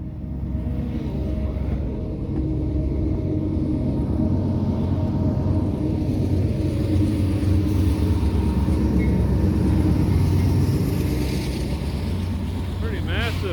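Cargo train engines pass at night in Temple, Texas, heard from a drone overhead as a steady, heavy low rumble and droning hum building and holding for over ten seconds, with no talk.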